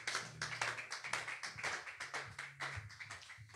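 A church congregation claps in steady rhythmic applause, sharp overlapping hand claps repeating through the stretch alongside a sustained low musical tone.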